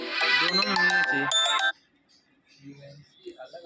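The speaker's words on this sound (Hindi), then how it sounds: "तुम्हारा फोन आ रहा है" A phone ringtone for an incoming call plays loudly as a melodic electronic tune for under two seconds, then cuts off, leaving faint background noise and a murmur of voices.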